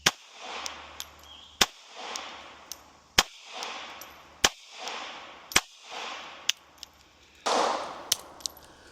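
Smith & Wesson Bodyguard 2.0 Performance Center Carry Comp .380 ACP pistol firing 90-grain rounds at 5 yards outdoors, six sharp, loud shots spaced irregularly about a second apart, each with a short echoing tail, plus faint clicks of handling.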